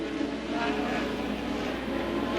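A Porsche-powered Formula 1 car from the 1984 Portuguese Grand Prix produces a steady, dense engine roar that holds constant and loud throughout, with no breaks.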